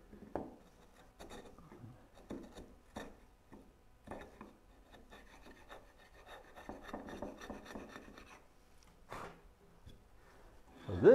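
Hand plane or rasp shaving wooden parts to fit a Moxon vise, giving soft repeated rasping strokes in an uneven rhythm, close and fairly quiet, with a louder scrape near the end.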